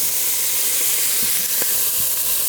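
Garlic sizzling in olive oil in a pan, a steady loud hiss and crackle with a few soft stirring knocks and no talk.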